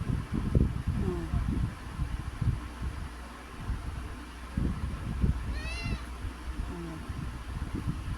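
Playful house cat giving a few short, close meows over faint background hum, with a person murmuring nearby.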